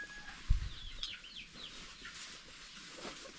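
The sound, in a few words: hen clucking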